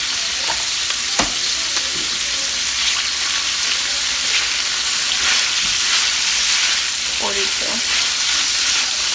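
Food frying in Earth Balance vegan butter gives a steady, fairly loud sizzle throughout, with occasional stirring clicks and scrapes on top and no talking.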